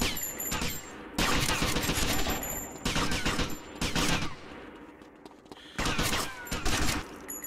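Gunfire rings out in GTA Vice City as several loud, close bursts of rapid shots, each lasting about a second, broken up by short gaps with quieter sound.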